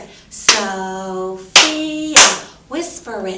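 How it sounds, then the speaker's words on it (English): Children clap out the syllables of a name in a classroom, three sharp, loud claps at an even pace, each joined by voices sounding the syllable. "Sophia, clap it."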